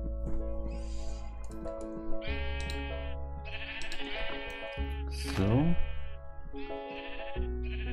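Sheep bleat repeatedly in the Minecraft video game, several harmonic wavering calls layered over game music, with a brief word of speech near the start.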